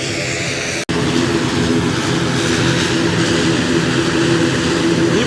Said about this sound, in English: So you can hear it, and there it is,